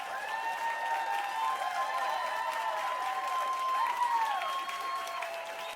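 A canned studio audience track of cheering and applause swells for several seconds, a dense crowd roar with clapping running continuously at a fairly loud level.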